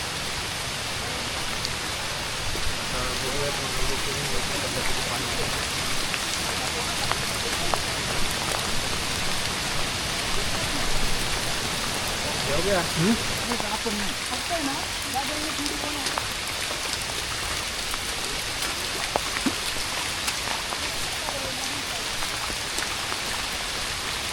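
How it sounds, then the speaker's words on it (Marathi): Heavy, steady rain pours through the forest on the Bhorgiri–Bhimashankar trek, a dense continuous hiss of drops on leaves and ground lasting throughout, with faint voices and footsteps briefly audible beneath it. "पाऊस तासाची तासात पडतोय जोरात."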